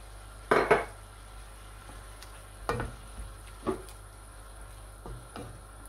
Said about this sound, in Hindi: अच्छे से मिक्स करूँगी इसको मैं